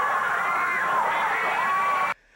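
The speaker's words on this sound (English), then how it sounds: "Listen to the crowd." A 1986 Memphis wrestling arena crowd cheers in a steady, loud, dense roar for about two seconds before cutting off abruptly.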